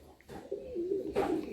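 A female pigeon, a tournament flying breed, gives a single soft, low coo up close, rising into a short throaty burst near its end.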